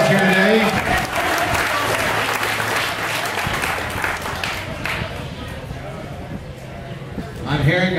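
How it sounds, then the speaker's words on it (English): A crowd at an outdoor giveaway event applauds sponsors with sustained, loud clapping and cheering that holds steady throughout, then a voice speaking over it near the end. "So give our sponsors a big round of applause here today."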